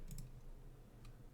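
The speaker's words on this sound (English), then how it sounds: "I'm double clicking and not single clicking" A computer mouse gives a quick double click during a live coding session, two faint taps close together near the start and a single soft click about a second later, with no speech.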